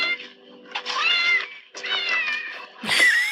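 A cat meowing from inside a trash can that wriggles and shakes, three drawn-out, insistent cries close by, the last one louder and rising.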